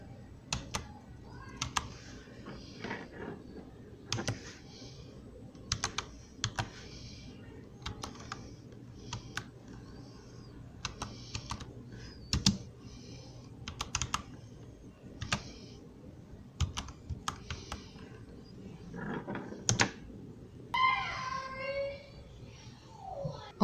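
Someone types on a computer keyboard in irregular bursts of light clicky keystrokes, fairly close, with a brief fast flurry near the end.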